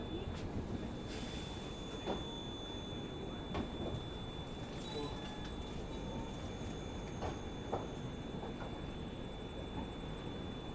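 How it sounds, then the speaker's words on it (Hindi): The Shri Shakti AC Express pulls out of Katra railway station at night, with a steady, close rolling rumble and occasional clanks and clicks from the carriages. "तो ले लिया दोस्तों ट्रेन ने हमारी डिपार्चर कटरा रेलवे स्टेशन से"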